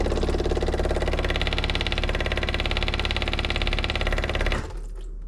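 A 1978 Reliant Scimitar engine cranking and running, a rapid, even mechanical chatter with a low pulsing drone, loud and close, then cutting off abruptly near the end.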